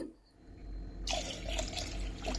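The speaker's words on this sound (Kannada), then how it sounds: "ಈಗ ಇದನ್ನ ಮೂರನ್ನು ಕೂಡ ಕುಕ್ಕರಿಗೆ ಹಾಕ್ಕೊಂಡು ವಾಶ್ ಮಾಡ್ಕೋಬೇಕು" Three kinds of millet are washed in a pressure cooker. After a quiet second, water starts pouring and splashing over the grains, filling the pot with a close, steady wash.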